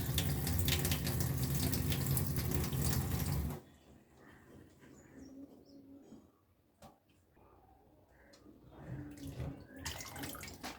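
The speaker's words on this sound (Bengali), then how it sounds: "আমি এখানে সিমগুলো কেটে নিয়েছি এবং ধুয়ে নিচ্ছি" Running tap water gushes loudly over cut flat beans for a few seconds, then stops abruptly, leaving quieter handling and dripping sounds before the water briefly picks up again near the end.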